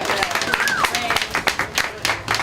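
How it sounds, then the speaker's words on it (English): Audience applause at a speak-out event against domestic violence, scattered individual claps with a whoop or two and some voices talking among them, uneven and moderately loud. "please let's give them a big round of applause"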